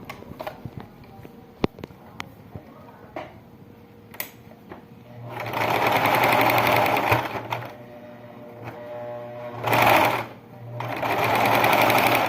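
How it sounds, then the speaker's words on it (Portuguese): A sewing machine stitches fabric for a baby slipper, running in two loud close bursts of rapid mechanical whirring, separated by quieter handling clicks and fabric rustle. "a gente vai passar a costurinha aqui"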